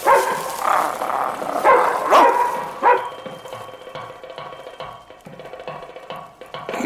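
Dogs barking near a village, several loud yelps and barks bunched in the first three seconds, then trailing into fainter intermittent yips and whimpers with background noise.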